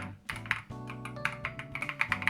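Close, crisp typing on an EPOMAKER TH80 SE, a compact 75% mechanical keyboard with a quiet feel, giving a quick run of soft, muted keystrokes with no metallic ping.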